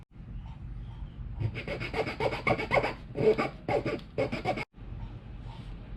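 A wooden fishing lure blank is rough carved by hand, rapid rhythmic rasping strokes in several bursts, close and loud, with short pauses between.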